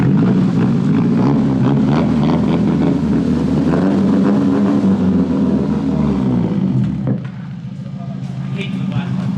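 A Nissan 240SX runs on blast pipes exhaust, starting and driving for the first time in ten years. It gives a loud, steady low drone with people talking over it, then drops off sharply near the end.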